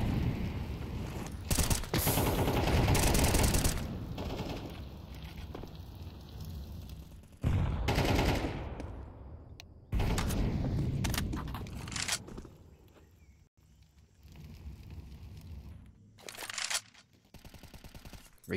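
Gunfire sprays in a competitive video game match in loud, sustained bursts of rapid shots with explosive blasts. Long dense stretches are broken by short pauses, and no one speaks.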